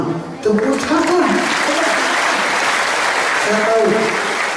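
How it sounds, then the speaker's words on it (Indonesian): Audience applause following a speech at an inspirational event, dense clapping from a crowd heard alongside sustained tonal sound like music or voices underneath, fairly loud and continuous. "Tepuk tangan."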